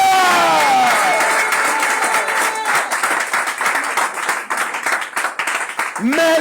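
A church congregation claps and cheers in loud, sustained applause, with voices shouting over dense rhythmic clapping that fades slightly toward the end.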